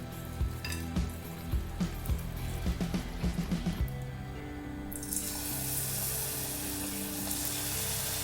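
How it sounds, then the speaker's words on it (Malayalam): Cauliflower pieces dropped into hot oil for cauliflower chilli, a few splashy plops and clatters followed by a steady, bright sizzling hiss that swells as the frying takes hold, with no talking. "ഞാൻ നമ്മുടെ കോളിഫ്ലവർ ഫ്രൈ ചെയ്തെടുക്കാനായിട്ട് ഞാൻ ഓയിൽ ചൂടാക്കാൻ വെച്ചിട്ടുണ്ട്."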